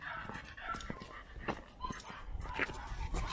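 A pack of dogs that includes a six-month-old puppy makes faint, close whimpers, yips and soft barks over shuffling movement and background noise.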